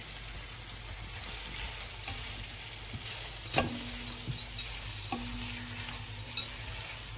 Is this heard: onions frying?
yes